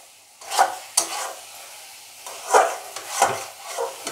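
A spoon stirs a thick, drying sweet gujiya filling in a pan in a Bengali home kitchen, giving soft scraping strokes at an uneven pace with a faint sizzle underneath. No one speaks.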